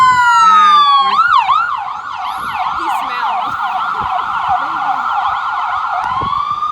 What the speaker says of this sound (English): Ambulance coming down.